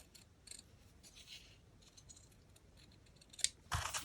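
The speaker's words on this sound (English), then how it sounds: "Just go around and then cut it." Scissors snipping through thin silky fabric for a yo-yo flower Christmas ornament, faint close crisp cuts in short bursts, then a louder brief clatter at the end.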